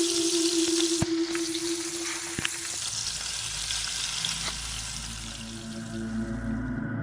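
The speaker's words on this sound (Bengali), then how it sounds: "দামড়ি রান্নাঘরে গিয়ে কিছু একটা রান্না করে" Food fries in a kitchen pan with a steady, loud sizzle, broken by a few sharp clanks of a utensil early on, then settling into an even hiss with low rumble.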